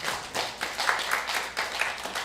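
A church congregation claps for the graduates at a graduation service, with steady, moderately loud applause that continues without a break.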